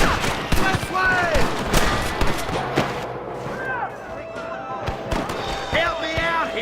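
Gunfire rattles through a Red Dead Redemption fight with rustler guards, repeated sharp shots spaced irregularly over several seconds while voices shout between them.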